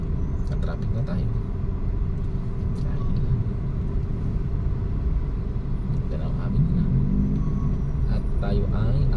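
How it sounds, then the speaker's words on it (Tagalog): Road traffic with cars on Mindanao Avenue in Metro Manila near the Valenzuela boundary, heard from inside a vehicle as a steady low engine and road rumble, with occasional faint knocks and voices talking over it. "Ka-traffic na tayo."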